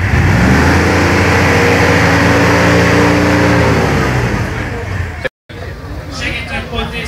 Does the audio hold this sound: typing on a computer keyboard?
no